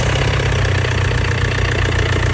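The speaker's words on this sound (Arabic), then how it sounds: "درت ايفاسمون وقلت لصاحبي نوض الموتور" A Mercedes C-Class car engine idles after starting, with a loud, close, steady rumble and a regular low pulsing throb that continues throughout, with no talking.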